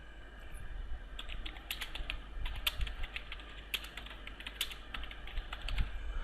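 Quiet, close-up typing on a computer keyboard: irregular quick clicks and clusters of keystrokes over a faint low hum, with no speech.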